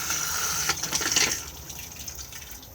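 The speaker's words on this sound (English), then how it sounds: "push the flush on the blue button just here" A cassette toilet in a Swift Corniche caravan flushes with a close rush of water that gushes loudly for about a second, then fades into a quieter trickle.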